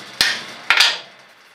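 A knife bolt on a brazed-tang chef knife is tapped to adjust its alignment, giving three sharp metallic taps: one single strike and then a quick pair, close and ringing briefly.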